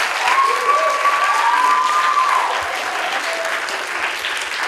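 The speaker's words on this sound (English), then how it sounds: "Let's give them one more huge round of applause." An audience gives sustained applause for a secondary school theatre production cast on closing night, a full, steady clapping that gradually eases, with a whistle carrying over it.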